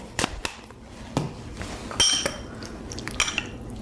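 A spoon mixes Vital Brain powder into citrus marmalade for filled chocolates, giving a run of sharp clinks and taps against the bowl, close and irregular, with no talking.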